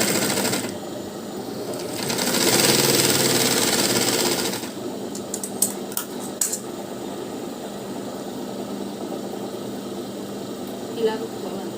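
A sewing machine stitches the lining of a blouse, running in a steady mechanical whir for a few seconds, then stopping, followed by quieter handling of the fabric.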